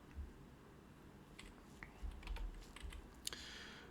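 Typing on a computer keyboard while coding a Dijkstra algorithm exercise, quiet scattered key clicks coming in short irregular bursts, close and faint, with no talking.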